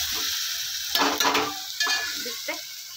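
Ginger and garlic frying in a pan at home, a steady close sizzle broken by a few bursts of scraping and stirring.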